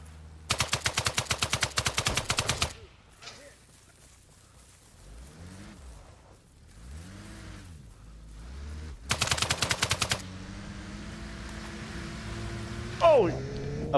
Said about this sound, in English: Oh, of course, there's a machine gun vehicle.